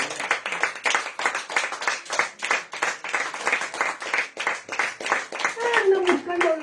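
Church congregation clapping steadily in rhythm, a dense run of sharp, even hand claps that continues throughout, with a voice speaking over the applause near the end.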